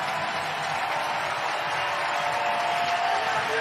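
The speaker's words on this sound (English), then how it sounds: "listen to this crowd" A large baseball stadium crowd in San Francisco applauds and cheers Madison Bumgarner as he departs. The steady, dense roar of clapping and voices holds loud and unbroken throughout.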